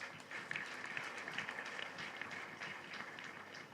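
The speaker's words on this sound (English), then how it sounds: "I think you deserve to give yourselves a round of applause." Steady applause from an audience at a fellowship conferment ceremony, a dense continuous patter of many hands clapping that holds evenly throughout, moderately distant in a large hall.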